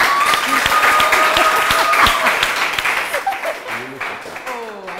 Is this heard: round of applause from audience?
yes